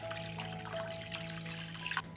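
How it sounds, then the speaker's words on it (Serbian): Water trickles and pours into a cooking pot lined with a cloth and holding glass jars, a quiet, steady liquid stream over a low hum, alone without talk. "Sipat ću vodu do visine poklopca."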